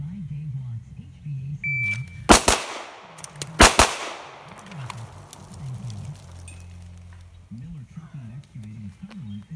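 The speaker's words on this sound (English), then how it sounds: "Let's see where the shots went." A pistol fired at a 7-yard target: two sharp, loud shots a little over a second apart, with someone talking before and after them.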